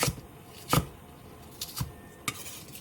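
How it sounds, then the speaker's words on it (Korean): A kitchen knife chops napa cabbage, radish and green onion on a cutting board, giving four crisp, separate knocks spaced unevenly in an otherwise quiet room. "배추는 길게 반으로 한번 잘라서 한입 크기로 잘라주고"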